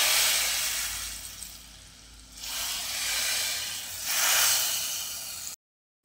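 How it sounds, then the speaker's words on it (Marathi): Red chili tempering (tadka) sizzling in hot oil for a garlic tempering over a kulith shengole dish, a loud hissing sizzle that swells and fades in waves, then cuts off abruptly. "आता यामध्ये थोडीशी लाल मिरची घालायची आणि छान असं याच्यामध्ये तडका द्यायचा आहे।"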